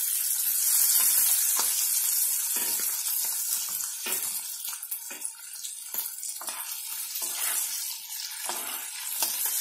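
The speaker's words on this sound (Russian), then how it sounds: "В это время у нас жарятся сварки." Pork cracklings sizzle and crackle in a hot pan, a bright steady frying hiss broken by a few stirring scrapes, up close with no talking.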